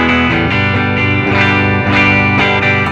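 An electric guitar with a clean amp tone plays a sequence of bright, ringing chords, each struck and left to sustain, loud and up close.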